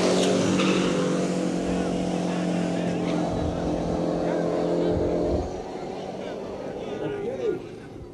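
A purpose-built Mustang drag race car makes an evening match-race pass, its engine a loud, steady roar that drops in level partway through, with some voices mixed in.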